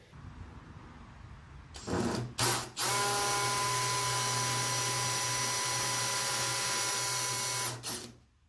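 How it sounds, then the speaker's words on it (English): A power drill whirs steadily at close range for several seconds, drilling a starter hole in a car door for rust repair, starting with a few short bursts before settling into a sustained high-pitched drone, then stopping. "what I'm doing now is drilling a little starter hole"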